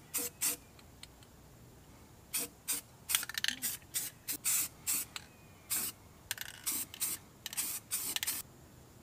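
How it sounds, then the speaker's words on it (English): A spray paint can hisses onto a car's underbody in repeated short bursts of one to two seconds with brief pauses between them. The spray is close and crisp against a quiet background. "let's get to spraying"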